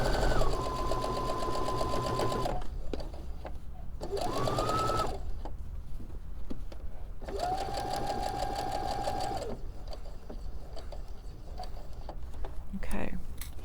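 A sewing machine stitches fabric in three short bursts of steady motor whine separated by pauses, with quiet handling noises and a brief faint sound near the end.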